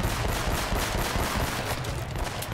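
Dense, continuous automatic gunfire from a firefight in the Uncharted video game, loud and close with overlapping shots throughout and no talk.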